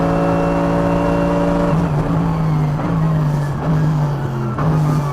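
A Mercedes-AMG GT3 race car on the Nurburgring GP short circuit, its engine roaring loud and close from the cockpit, holding a steady pitch before dropping and rising again through gear changes and corners.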